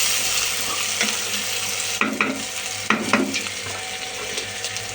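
Tomatoes sizzle in a hot pan with a constant loud hiss close by, broken by several clinks and scrapes of stirring.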